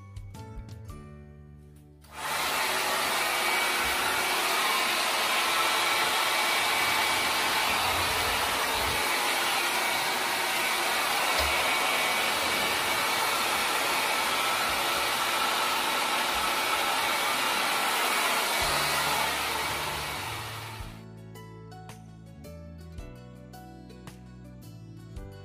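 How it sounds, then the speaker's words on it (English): A hair dryer runs at a steady, loud whoosh for about twenty seconds, heating contact paper on a mirror backsplash, switched on and then off, with faint music in the background. "Alrighty, I'm gonna get the blow dryer."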